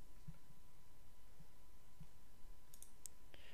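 A URL is typed on a computer keyboard, producing a few soft, scattered keystroke clicks over a quiet room hiss, with a brief cluster of sharper taps near the end.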